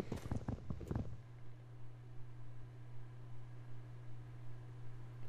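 A few quick hoofsteps from a horse in the Minecraft Herobrine mod, a brief burst of clip-clop at the start that stops abruptly, followed by a steady low electronic hum and faint noise.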